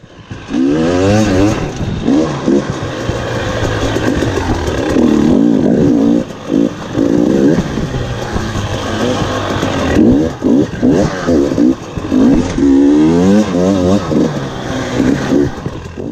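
Dirt bike riding through the sand section of a motocross track, the engine revving and rising and falling in pitch as it powers through the sand, loud and close throughout, with a rider's voice coming through in places.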